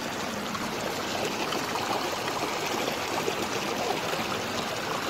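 A waterfall stream near a riverside resort in Chanthaburi rushes in a steady, dense wash of flowing water, even and unbroken throughout, with no voices over it.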